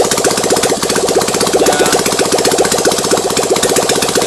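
An engine runs loud and close with a rapid, rhythmic pulsing beat, its exhaust spitting and banging on unburnt fuel, with no talking.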